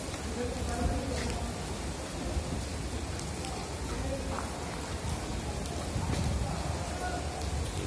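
Steady downpour of heavy rain beats down close by, a thick continuous roar with scattered louder drops and faint background voices.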